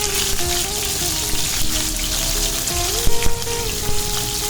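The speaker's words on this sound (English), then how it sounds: "And then I'm frying these pieces one by one." Steady, crackling sizzle of rohu fish pieces frying in hot oil, continuous and close, with a few louder pops and spits near the end.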